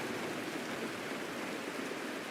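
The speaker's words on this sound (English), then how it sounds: "It is raining!" Steady rain falls in the Honkai: Star Rail video game, a dense, even hiss of water with no breaks, heard alone without voices.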